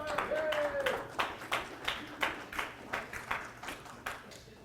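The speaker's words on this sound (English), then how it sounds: "everyone, please give them a round of applause." Scattered audience clapping for staff members at an annual meeting, about a dozen loose rhythmic claps from a small crowd fading toward the end, with a voice speaking briefly at the start.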